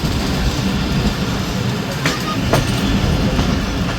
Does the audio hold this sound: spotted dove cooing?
no